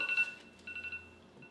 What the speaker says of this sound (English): even my phone went off because of it